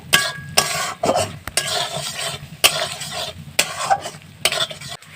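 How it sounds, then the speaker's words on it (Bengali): A spoon stirs and scrapes a turmeric-spiced curry gravy as it thickens in a pan, with repeated close scraping strokes over a steady sizzle and no talking. "দিয়ে কিছুক্ষণ নাড়াচাড়া করতে হবে"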